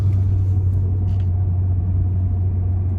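Brabus car engine rumbling while driving on the road, a loud, steady low drone heard from inside, with no voices over it.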